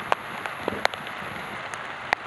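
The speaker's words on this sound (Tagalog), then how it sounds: "sobrang lakas po ng ulan ngayon dito." Heavy rain pours down steadily outdoors, a dense even hiss with a few sharper drops and splashes standing out close by.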